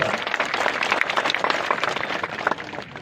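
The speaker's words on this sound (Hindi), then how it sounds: "भूपेश बघेल के लिए जोरदार ताली मार के स्वागत करना है" Crowd applause at an outdoor political rally, dense clapping from many hands, loud and sustained for the whole stretch with no voices over it.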